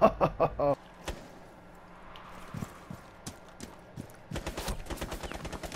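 Video game gunfire aimed at a tunnel window, a rapid burst of close shots at the start, then sparse single reports and a closing cluster of quick shots over quiet game ambience.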